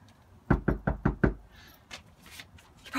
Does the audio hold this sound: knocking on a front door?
yes